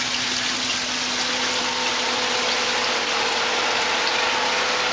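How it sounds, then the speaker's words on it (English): Water pump in a small-scale DIY tilapia aquaculture system runs with a constant hiss and hum, water rushing steadily and close by, with no voices. "pump sucks the water out of the sump"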